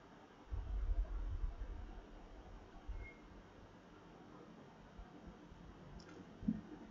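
Computer mouse clicking on a desktop while setting up Chrome Remote Desktop, with a few soft clicks over a low background hum and faint bumps.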